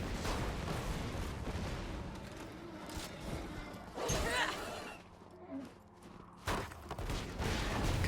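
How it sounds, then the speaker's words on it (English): Loud booms and crashing blasts in the video game Borderlands 2, from the KerBLASTER assault rifle, pile up in a dense, continuous barrage, with sharp bursts breaking through a roaring rumble. "Kaboom! Explosions everywhere."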